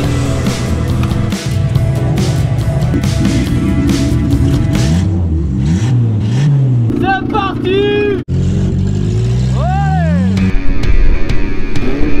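A stock race car engine revving hard up and down, loud and close, with rising and falling pitch sweeps and a French-speaking voice talking over it.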